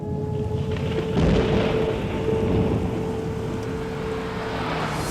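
Thunderstorm over Guam: a steady, fairly loud broadband rumble with rain-like wash, swelling briefly near the start and holding constant throughout, no voices.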